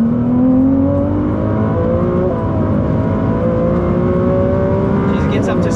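Ferrari 296 GTB accelerating hard on a track hotlap at well over 200 km/h, a loud continuous engine note climbing steadily in pitch with wind and road roar throughout.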